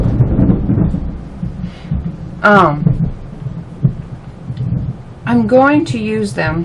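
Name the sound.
thunder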